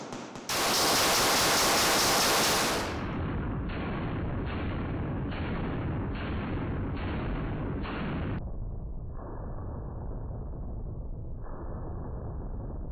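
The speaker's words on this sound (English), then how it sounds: "Next, we're going to shoot a target with a different manufacturer to show some differences between the two." Firearm shots at a target using a different ammunition brand, 5280 Armory civilian defense rounds compared; a loud blast then a steady series of evenly spaced shots, close and dense, with no talking.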